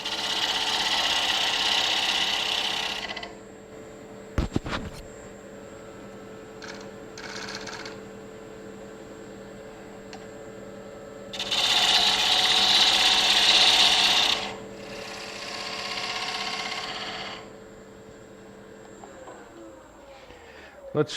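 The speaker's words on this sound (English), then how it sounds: "I'm going to take a 3/8 spindle gouge and just turn the diameter" A 3/8 spindle gouge cuts the diameter of a wooden inlay spinning on a lathe, giving two loud rasping scrapes, one at the start and one mid-way, with a quieter motor hum and light contact sounds in between.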